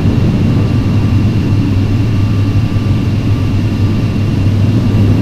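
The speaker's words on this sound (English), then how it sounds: "reverse thrust engaged, spoilers up, 100 knots" Loud, steady jet engine roar with a deep low rumble as reverse thrust is engaged on a simulated airliner landing in Microsoft Flight Simulator X, continuous and close for the whole stretch.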